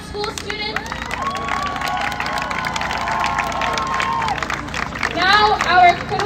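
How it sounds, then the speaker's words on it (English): An outdoor crowd at a march claps and cheers for Merdinian School students. Bright shouts and children's voices rise over continuous clapping, swelling louder near the end. "Another round of applause for the Merdinian School students."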